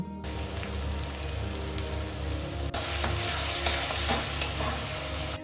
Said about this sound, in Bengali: এবার শুকনো লঙ্কা বাটা দিয়ে ভালো করে কষিয়ে হলুদ গুঁড়ো ও লবণ দিচ্ছি।